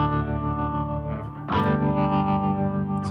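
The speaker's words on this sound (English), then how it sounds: "This was actually a patch that I found on here using the Terra Echo sound." A bass guitar drones through a shimmering Terra Echo patch on a Boss GT-1000 Core, sustained tones swelling into a thicker distorted wash halfway through.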